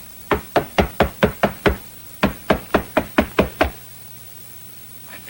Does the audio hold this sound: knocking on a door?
yes